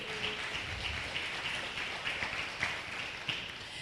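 A round of applause from an audience at a talk, heard as a steady, soft wash of many hands clapping, fairly distant and even throughout with a few sharper claps standing out.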